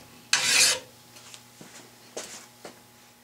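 A hand file rasps across a metal edge to knock off a burr: one firm, bright stroke followed by several lighter, shorter scrapes, close up and without talk.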